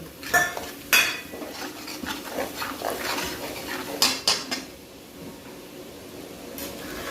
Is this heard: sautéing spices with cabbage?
yes